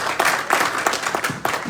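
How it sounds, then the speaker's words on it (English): A convention audience gives a round of applause, a dense, fairly loud and steady clapping with a few sharper individual claps standing out, no voices over it. "I would like to have a big round of applause for your participation"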